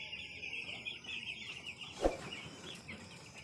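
Broiler chickens on a poultry farm, heard as a steady, fairly faint flock murmur with occasional soft clucks and one brief sharper sound midway, with no voices.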